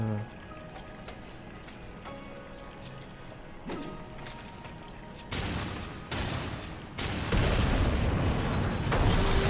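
A dropped bomb detonates in the video game Darksiders 2, with quieter game sounds and a few pops giving way to loud, booming broadband blasts that swell and stay heavy toward the end.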